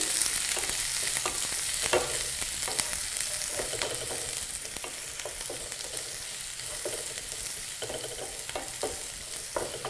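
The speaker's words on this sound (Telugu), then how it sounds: "ఆయిల్లో ఉల్లిపాయ ముక్కలు పచ్చిమిర్చి వేసి బాగా కలుపుకోవాలి" Onion pieces and green chillies sizzle in oil for potato korma while a spoon scrapes and stirs them in repeated strokes; the frying hiss stays steady and close, with no voices.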